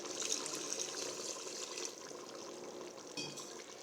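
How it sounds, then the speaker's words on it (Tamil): Water pours steadily into a pot of mutton biryani with a soft, continuous splashing, then changes tone briefly near the end, quiet and close with no talking. "நல்லா கறி வேகிற அளவுக்கு மட்டும் தண்ணி ஊற்றிக்கலாம்"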